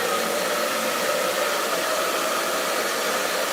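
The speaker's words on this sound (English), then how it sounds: "Do my face with the dryer, please." A hair dryer blows in a steady, loud, unbroken whoosh, held close and constant with no voices over it.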